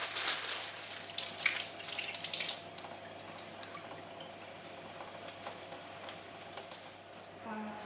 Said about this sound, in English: Gonna wash a couple of these tomatoes.